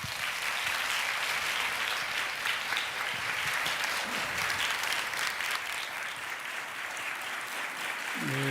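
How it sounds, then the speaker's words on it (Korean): A large church congregation applauds steadily and loudly throughout, welcoming a pastor at a Korean early-morning prayer service in Los Angeles, with no talking over the clapping. "우리 목사님 나오실 때 큰 박수로 환영해 주시기 바랍니다."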